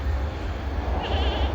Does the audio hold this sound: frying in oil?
no